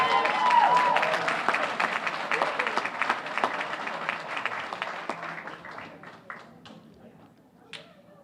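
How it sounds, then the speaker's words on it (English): An audience at a community chamber of commerce awards event applauds for a local tavern, a dense loud clapping that starts strong and gradually thins out into scattered claps and fades over several seconds. "Once again, another round of applause for Murray's Tavern."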